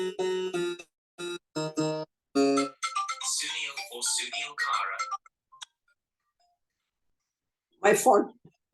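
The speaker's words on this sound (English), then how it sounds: "Sorry, there was a phone call." A mobile phone ringtone plays during an online Indian classical music class, a repeating electronic melody, with people talking over and around it before it stops.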